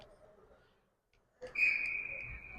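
A referee's whistle at a college ice hockey game gives one long, sustained shrill blast that rises out of quiet arena noise and holds to the end.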